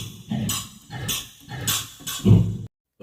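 A sampled drum kit, including a cropped, pitched-up hi-hat, plays a short beat of four punchy hits, each a low thump with a crisp hissy top, near and loud, then a clean cutoff.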